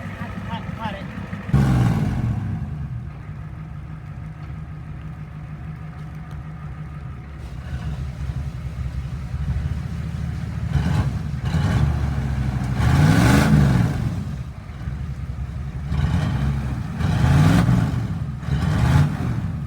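A 1989 Ford F-350 dually with a 7.3 IDI diesel runs on its first start in six years, a low rumbling idle that swells into several revs, with people talking nearby.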